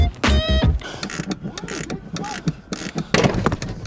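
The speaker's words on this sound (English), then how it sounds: "I'm actually on the last bolt to remove this rear axle" Ratchet clicking while loosening the last bolt on the rear axle of a Chevy Volt, in quick bursts of mechanical clicks with clanks and a tonal squeak, close and fairly loud, with some faint voices.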